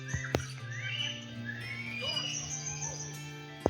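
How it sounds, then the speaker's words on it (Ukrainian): Several birds chirp and whistle faintly over a low background hum, with a couple of sharp clicks near the start and end. "послухати, як пташки співають"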